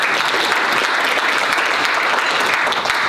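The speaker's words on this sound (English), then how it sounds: "Let's give them a round of applause" A loud, sustained round of applause from an audience at a public debate event, dense and even throughout with no voices rising above it.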